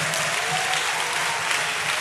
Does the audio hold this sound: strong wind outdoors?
no